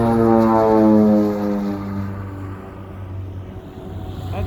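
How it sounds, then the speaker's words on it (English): A de Havilland Twin Otter fitted with floats takes off at an airport, its steady twin turboprop drone loud and constant with strong low harmonic bands, easing slightly after the first second. "That's a de Havilland Twin Otter with floats on."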